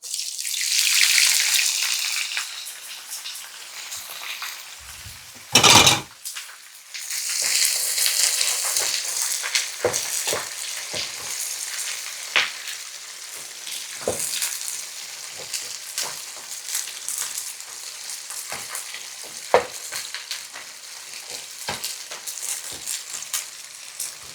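Steady crackling sizzle of onions frying in a hot pan for mutton curry, with a loud clatter early on and occasional scrapes and taps continuing over the hiss.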